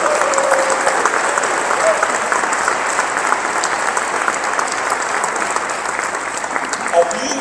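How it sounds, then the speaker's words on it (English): About 1,200 people at the Harvey Milk Diversity Breakfast in the Palm Springs Convention Center give the sponsors loud, sustained applause for the whole stretch, with a voice speaking over the clapping. "Let's give them a huge round of applause"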